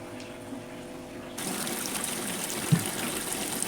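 Water drains from a semi-automatic washing machine tub, running and trickling steadily, growing louder and broader partway through as the flow picks up, with a brief soft knock near the end.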